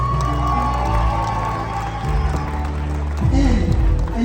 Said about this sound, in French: Miss Lamarana, applaudissez pour elle.